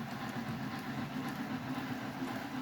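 Steady low rumble and hum of a small model train running continuously, with faint rhythmic clicking of wheels on track.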